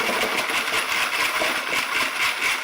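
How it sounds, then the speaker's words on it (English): Stainless steel tumbling pins shaken through a metal grate while cleaning wet-tumbled brass cases, a dense, continuous bright jingling rattle of many small metal pins, close and steady throughout. "get all those pins to fall through the grate"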